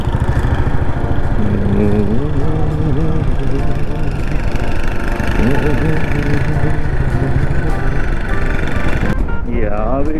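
A motorcycle engine runs loud and close on a high mountain road in Sindhuli, Nepal, with a steady droning rumble throughout. Someone talks over it.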